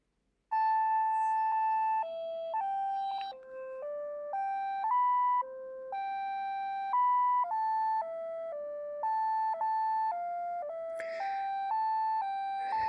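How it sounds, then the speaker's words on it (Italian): Home-composed monophonic ringtone melody played on an old Motorola candybar phone: a clear, loud sequence of stepped electronic beeps changing pitch in a quick tune, alone without any talking. "Questo è il ringtone che ho finito di editare"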